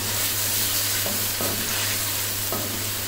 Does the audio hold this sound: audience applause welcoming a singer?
no